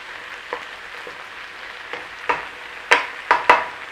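Mushrooms fry in a pan, giving off moisture, a faint steady sizzle broken by several sharper stirring scrapes and clatters near the end.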